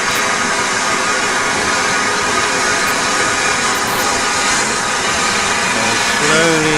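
Two steam locomotives, Eddystone and Wadebridge, double-heading a train out of Horsted Keynes, roar with a loud, dense, continuous hiss and chuff as they slowly gather speed, with a brief whistle-like tone near the end.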